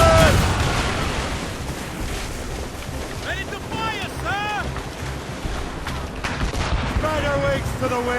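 Ship cannons in Assassin's Creed Rogue fire a broadside at sea, dull booms under wind and rolling water, with tonal sweeps and a voice shouting faintly in the mix.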